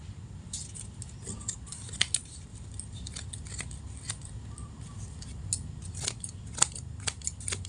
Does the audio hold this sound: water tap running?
no